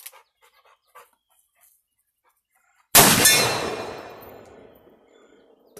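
A single sharp report from a Ruger Old Army black powder revolver cracks out loudly outdoors and rings into a long fading tail, preceded by a few faint scattered ticks and chirps.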